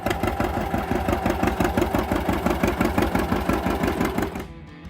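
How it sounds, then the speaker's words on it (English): A John Deere Model A two-cylinder tractor engine runs steadily with a loud, rapid, regular pulsing beat that fades out at the very end. "John Deere answered with the Model A, the company's first mass-produced 2-cylinder tractor."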